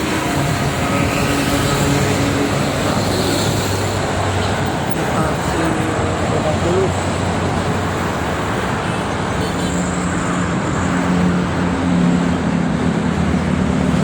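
Traffic on the Jakarta-Cikampek toll road, thick with trucks, produces a continuous steady roar of passing engines and tyres, with faint talk occasionally underneath.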